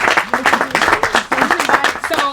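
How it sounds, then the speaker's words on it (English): A live audience applauds panelists at a Nashville songwriters' workshop, a dense, steady wash of many hands clapping that carries loudly through the whole stretch. "Can we give our astounding panelists another round of applause?"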